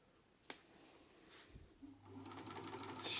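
A vintage Singer sewing machine runs a straight stitch close by, a steady mechanical whir building after a few light clicks and knocks, growing louder toward the end with no talking.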